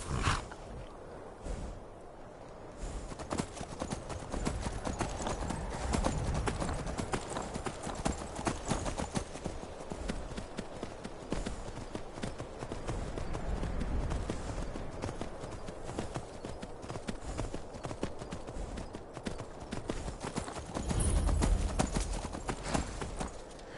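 Steady clip-clop of horse hooves trotting at an even rhythm in Skyrim, played in VR, continuing throughout over a low rumbling background.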